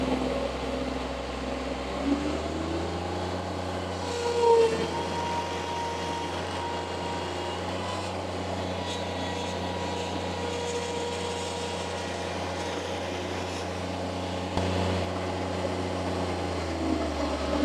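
A Bobcat MT100 mini skid steer's engine revs up under throttle and holds a steady mechanical drone, with a brief whine in the middle and dropping back toward the end.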